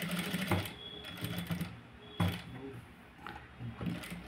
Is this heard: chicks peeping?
no